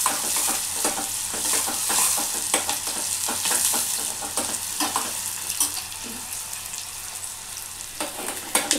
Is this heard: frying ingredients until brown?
yes